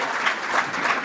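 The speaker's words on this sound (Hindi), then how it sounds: "ऐसी पूरी टीम के लिए जोरदार तालियां।" A crowd at a Digambar Jain temple claps steadily and enthusiastically, a dense continuous patter of applause with no voices standing out.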